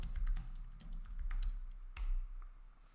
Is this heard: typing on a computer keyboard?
yes